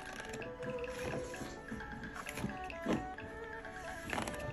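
A repaired electric fan heater runs steadily with a dense mechanical whir, scattered rattles and clicks, and a few louder knocks, all close by and without talk.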